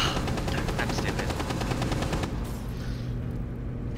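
Rapid bursts of automatic gunfire rattle loudly and continuously in a tactical shooter game match, with dense repeated shots that thin out toward the end, no talking over them.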